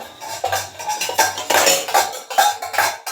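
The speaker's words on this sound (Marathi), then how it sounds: "आमचं श्री सगळी भांडी पाडतोय खाली." A child knocks cooking pots and utensils onto the floor, producing a quick run of loud metallic clatters and clanks in irregular bursts over a few seconds.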